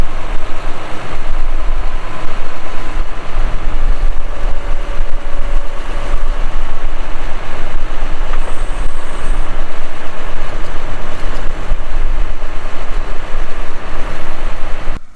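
Continuous loud, rumbling diesel engine of a tractor running steadily in a field while lifting a large rock, a close, unbroken low drone throughout.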